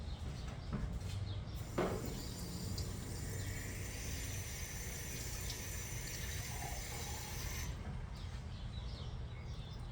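Cold tap water runs steadily into a cup for several seconds, a continuous splashing flow that stops near the end.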